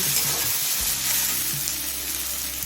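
Flat beans and eggplant are stirred and fried in a pan for a fenugreek greens chorchori, a dense, loud, close sizzle with a brief stir near the start.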